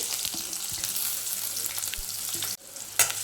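Finely chopped onions frying in a pan for a quick onion rice, a close continuous sizzle with light stirring scrapes, briefly cutting out near the end before resuming, no voices.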